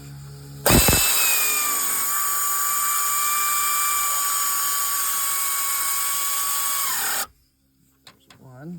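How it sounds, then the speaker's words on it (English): An air ratchet spins on a thermostat housing bolt of a Honda Element, a loud high-pitched pneumatic whine running steadily for about six seconds before cutting off abruptly, followed by brief quiet handling noises. "Let's see if I can do it with the air ratchet this time."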